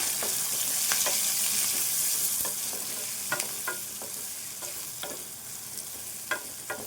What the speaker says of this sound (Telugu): నాలుగు పచ్చిమిర్చి కరివేపాకు పసుపు ఇవన్నీ కొద్దిసేపు వేపుకోవాలి